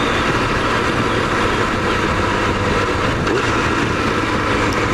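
A 1999 Yamaha R1 sport bike being ridden, its engine a loud, steady, close roar mixed with heavy wind rush, continuous with no break.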